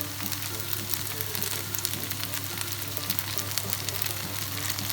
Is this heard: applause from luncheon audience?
no